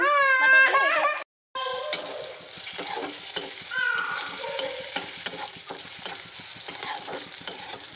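Onion, green chili, ginger and garlic fry in a pan with a steady sizzle and scattered stirring clicks; a voice cries out briefly at the start.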